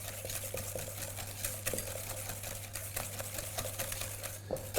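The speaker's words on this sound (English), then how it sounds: "We're just going to whisk that a little bit till it takes on a slightly pale colour" Egg yolks are whisked with caster sugar in a bowl, a quiet rapid ticking of the whisk against the sides over a low steady hum, close and faint with no talking.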